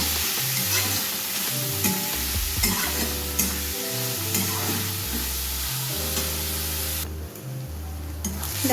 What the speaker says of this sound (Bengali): দেখো পেঁয়াজটা লাল লাল করে ভাজা হয়ে গেছে অনেকটাই